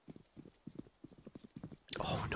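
Footsteps in CS:GO during a competitive match, a quick run of soft thuds in steady rhythm, close and distinct, followed by a sudden burst of louder noisy game sound.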